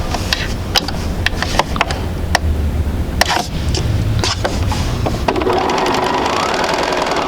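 A sewing machine stitches fabric squares together for a quilt sampler, with a loud, close mechanical whir and scattered sharp clicks, shifting to a steadier, brighter running hum in the last couple of seconds.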